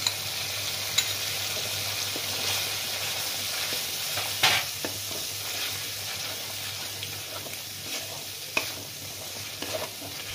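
A thick ground spice paste for a pointed gourd korma sizzles gently in a hot pan while a spoon stirs and scrapes through it, with a couple of sharper clinks against the metal.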